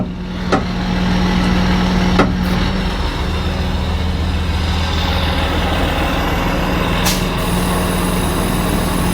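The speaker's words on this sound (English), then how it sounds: "we just cut the PTO pump on" Semi truck idling with its PTO pump engaged to lift a trailer, a steady low mechanical drone and hum with a few sharp hissing air bursts, no talk.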